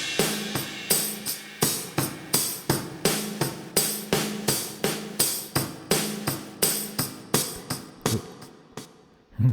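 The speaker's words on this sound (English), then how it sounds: "And then I added a tape delay and distortion and crushed it with a compressor as well" Heavily compressed, distorted drum pattern with tape delay, loud and steady beat of punchy hits with echo tails, playing alone without voices until it stops near the end.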